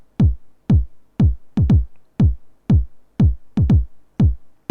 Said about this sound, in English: TR909 kit. And that's the kick that I use,